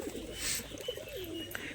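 Pigeons coo softly nearby in low, rolling calls, with a few light chirps and rustles around them.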